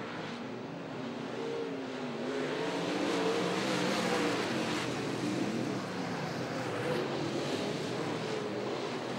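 Race cars roaring around a dirt speedway track, a loud continuous engine drone that swells and fades as the pack passes, heard from trackside with no talk.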